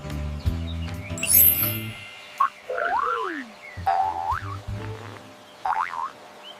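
A frog croaking, in a sequence of animal sounds for children: deep, buzzy croaks repeat in short bursts, with springy rising and falling calls in between. The sound is close and fairly loud, with no talking.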